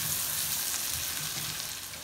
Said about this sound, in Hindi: प्याज डाल के मैं प्याज को थोड़ा सॉफ्ट कर लूँगी, ब्राउन नहीं करूँगी लेकिन खाली सॉफ्ट करूँगी।